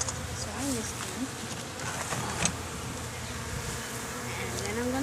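Honeybees buzz around an opened beehive during an inspection, a steady droning hum with individual bees whining past close to the microphone, fairly quiet and continuous with a faint background murmur.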